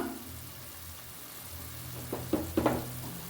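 Water boiling in a pot for fenugreek rice, a steady low bubbling rumble throughout with a few louder bubbling bursts near the end, close and moderately quiet.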